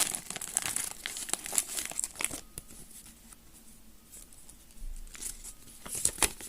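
A plastic foil wrapper on a pack of Star Wars jelly beans is pulled open with loud, close crinkling and tearing, bursts of rustle easing into softer handling before another crackly flurry.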